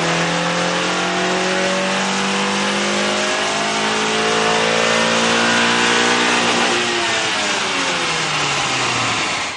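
An Acura engine revs hard on a dyno. The loud, sustained roar climbs in pitch through the gears, drops back at a shift, then sweeps up again near the end, with no voices.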